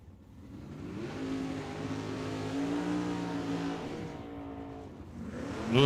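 At Tucson Dragway, a Gen 3 Camaro drag car accelerates hard, its engine note climbing through harmonic sweeps to a loud peak mid-run, dipping, then surging again at the end.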